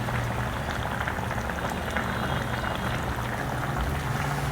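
A pot of vendakkai kuzhambu, a South Indian okra curry, bubbles and simmers steadily, a dense, continuous gurgling hiss with a low hum underneath, close and fairly loud.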